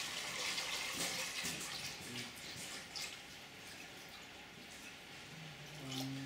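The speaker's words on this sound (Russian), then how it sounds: "Заливаем водичку." Water pours steadily into a pot, a soft continuous splashing rush that stays faint and close throughout, with a brief low sound near the end.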